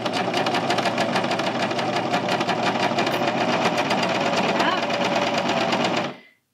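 A serger stitches a seam on a Hemlock tee, a steady fast mechanical whirr and chatter running close and loud for about six seconds before cutting off abruptly.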